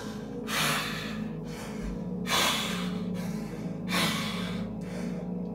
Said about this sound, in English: Open yourself up, open your mouth wide and breathe.